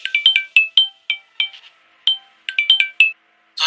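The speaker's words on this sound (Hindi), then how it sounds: "तभी उसके मोबाइल की रिंग बजने लगी" A mobile phone ringtone plays loud and close, a bright chirping electronic melody of quick repeated notes in short phrases, with no talking over it.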